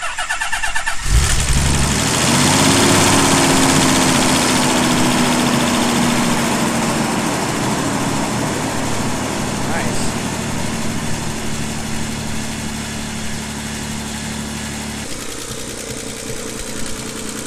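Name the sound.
Nissan 300ZX engine running and idling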